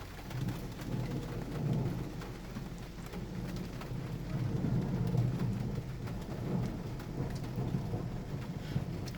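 Intense thunderstorm over Littleton, Colorado, with a dense, continuous roar of very heavy rain and low rolling thunder swelling throughout; no speech, a faint bird now and then.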